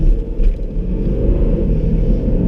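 A modified car's engine accelerating gently from about 50 with a light press of the gas, a loud, steady low rumble heard from inside the vehicle.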